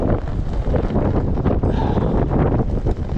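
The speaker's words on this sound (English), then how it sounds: "Lord, the wind decided to kick up." Strong gusting wind buffets the microphone on Greenbo Lake during December trout fishing from a kayak, a loud continuous low roar with rustling and water noise and no talk.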